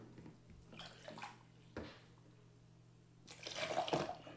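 A second cup of distilled water is poured in uneven bursts, close splashing stream sounds separated by brief pauses, the last pour louder and longer.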